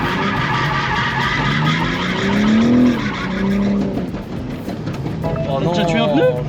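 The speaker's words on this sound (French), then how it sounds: "On a fait 6 donuts." A 700 hp BMW M4 spins donuts, its tyres screeching in long wavering squeals over a steady roaring engine, loud and close, with people talking over it.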